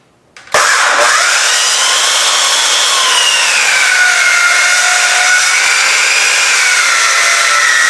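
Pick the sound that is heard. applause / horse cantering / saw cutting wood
saw cutting wood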